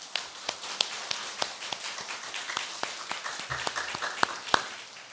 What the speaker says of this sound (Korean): 우리 하나님 앞에 영광의 박수.